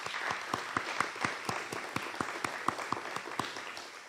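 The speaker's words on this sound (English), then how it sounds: "I just want to thank them and give them a huge round of applause." A small group applauds at a press conference launch, with distinct, fairly sparse claps in a steady rhythm, moderately near and otherwise quiet.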